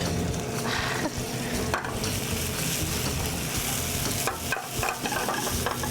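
Vegetables get tossed in a hot pan alongside maple glazed salmon and saffron jasmine rice, giving a dense, steady sizzle with brief scraping shuffles, close and loud throughout without speech.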